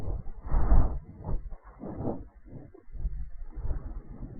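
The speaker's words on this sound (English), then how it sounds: "you need to listen for breathing that sounds like this" Heavy, slow breathing from an animatronic at the door in the video game FNaF 4, a series of close, rasping breaths rising and falling in a rough rhythm, with low rumbling noise beneath and no talking.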